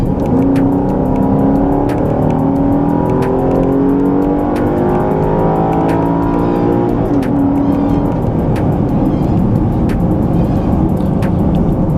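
A 2013 Cadillac SRX or Lexus RX 350 F Sport accelerates at full throttle at mile-high altitude, its engine a loud, steady drone that climbs in pitch, drops back at a gear change midway, and then climbs again.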